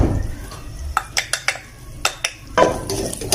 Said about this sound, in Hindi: अब इनको अच्छी तरह भूनना है।